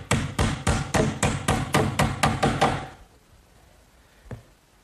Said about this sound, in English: I'll just secure that with some finish nails, 6-penny finish nails